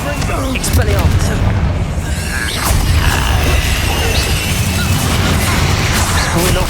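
Spellcasting combat in the Hogwarts Legacy video game: loud, dense crashes, bursts and mechanical clangs of a duel run without a break, with a player shouting along.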